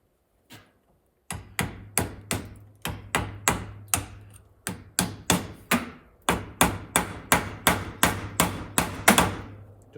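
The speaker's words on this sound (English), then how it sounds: "this is a brass hammer, so it will not damage the steel tone ring" Brass hammer tapping a steel ABS tone ring on a 2011 Kia Forte: close, sharp metallic strikes repeated in a steady rhythm roughly three times a second, with one lone tap, a short pause, then continuous tapping.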